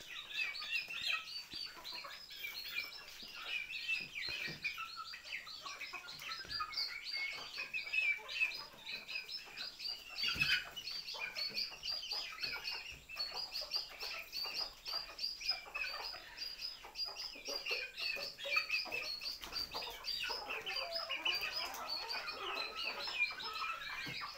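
A flock of poultry chickens clucks and chirps continuously while eating leftover food, with soft pecking and scratching sounds, no talking.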